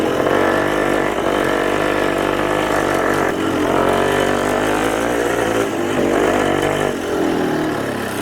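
A Rokon motorbike engine running steadily nearby, a loud continuous buzzing drone with slight rises and dips in pitch, heard alone.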